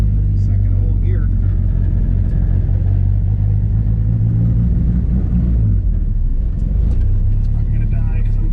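A boosted race car is driving in second gear and running too rich, with a loud continuous engine drone and rumble. A driver talks over the engine noise.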